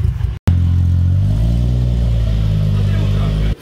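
A Nissan 200SX S14a with a 1.5JZ engine swap runs loud and close with a steady, droning engine note that continues without a break after a brief cut near the start.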